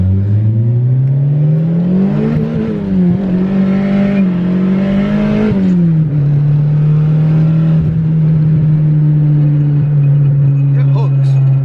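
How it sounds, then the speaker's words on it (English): Turbocharged Honda Integra with a 3-inch exhaust running all the way back, its engine droning loud and steady, the pitch rising briefly and then holding as it pulls, heard up close throughout with a faint whir over it. "you can hear the turbo"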